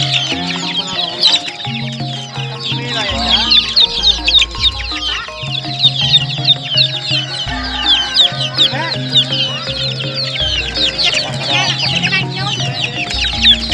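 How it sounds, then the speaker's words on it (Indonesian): Chicks and free-range village hens at a busy poultry market in Sumpiuh, Banyumas, a dense chorus of close clucking and high cheeping, with occasional rooster calls over low background hum. "saya akan menjajal jual beli anak-anak ayam betina dan ayam kampung"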